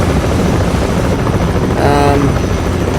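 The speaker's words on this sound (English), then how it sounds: "Hopping in this chopper." A military helicopter in the Battlefield Play4Free game roars with a steady, dense rotor and engine drone close by, swelling briefly near the middle and holding loud throughout.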